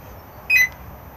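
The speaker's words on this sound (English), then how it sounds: "you'll get one chirp to let you know it's armed." An Xplore 304 caravan's alarm gives a single short electronic chirp on arming, heard clearly once against a quiet background.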